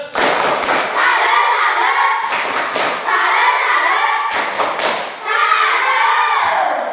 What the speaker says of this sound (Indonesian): kita tepuk salut semuanya